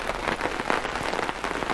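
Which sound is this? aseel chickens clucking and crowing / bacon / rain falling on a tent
rain falling on a tent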